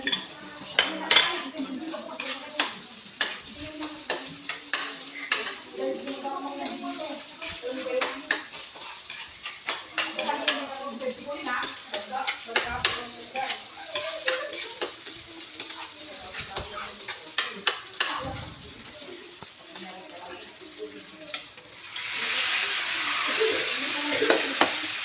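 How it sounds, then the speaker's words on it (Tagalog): Garlic and onion sautéing in a pan for beef skin adobo, with steady sizzling and frequent scraping, stirring clinks of a utensil against cookware throughout, close and fairly loud, the frying hiss swelling near the end. "Gigisa tayo ng bawang."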